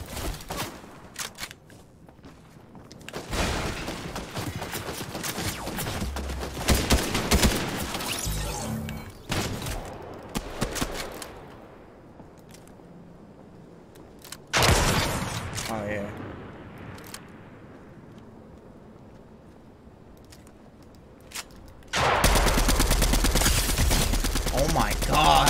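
Automatic rifle fire in Fortnite, rapid bursts of shots in several loud clusters separated by quieter stretches, with a voice talking over parts of it.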